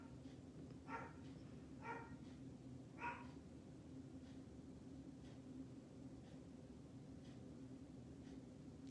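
A dog barks three times, moderately distant, over a steady low hum, then only faint background noise remains.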